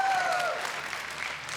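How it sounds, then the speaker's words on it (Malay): Studio audience applause on a Malaysian money-drop game show, a steady dense wash of clapping at even loudness with a brief tonal sweep at the start. "Tepukan semangat untuk Alif dan Noh."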